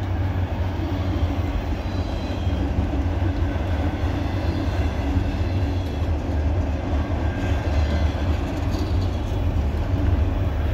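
A CSX freight train made up of Norfolk Southern and Conrail cars rolls past close by with a loud, continuous rumble and rattle of wheels on rails, steady from start to finish.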